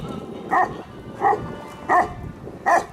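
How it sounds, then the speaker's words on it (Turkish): A large stray Kangal dog barks four times in an even, spaced rhythm, deep woofs at moderate distance over faint outdoor background noise. "Epeyce büyük köpek."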